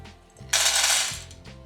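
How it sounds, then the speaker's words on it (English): Dry beans pour into a pot as a loud, dense rattling rush that runs for under a second and then stops abruptly, with faint clatter on either side. "Add your beans to a pot."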